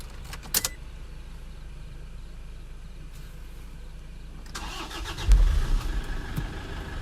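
A car engine cranks and starts after a quiet stretch of background hum and a brief rattle, rising into a louder, rumbling idle near the end, at a roadside where a vehicle has gone off the road.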